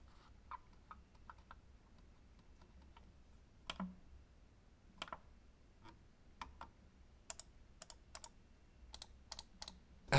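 Soft, crisp clicks from the buttons of a Logitech MX Master 3 mouse, a scattered string of light taps at an irregular pace, fairly quiet and close over a low background hum.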